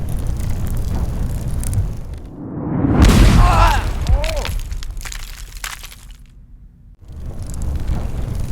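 A cannon fires with a loud, heavy boom and a crackling burst that rolls off over a few seconds, set among voices and background ambience.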